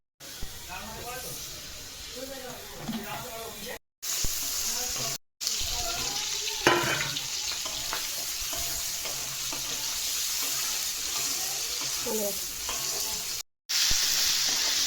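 Taro greens sizzle as they fry in a pan while preparing lentils with taro leaves, with a steady hiss and stirring scrapes, someone speaking over it and brief cuts of silence.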